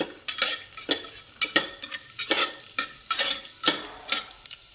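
Garlic and cumin seeds sizzle in hot oil while a utensil stirs them in repeated scraping strokes, making a rhythmic series of loud hissing bursts about every half second, close up with no voices.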